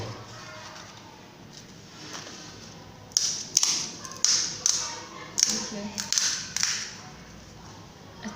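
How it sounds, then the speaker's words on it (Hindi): Crisp, puffed golgappa puris being tapped, giving a series of sharp, hollow knocks in irregular bursts, fairly close and clear over a soft background hiss. "खटखट का आवाज़ आ रहा है, कितने अच्छे फूले हुए हैं।"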